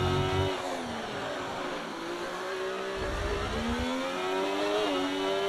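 A Williams Formula One car in a racing game runs an onboard qualifying lap at the Singapore street circuit. Its high-revving engine whines loudly through repeated gear shifts, rising and falling in pitch, with some tire noise.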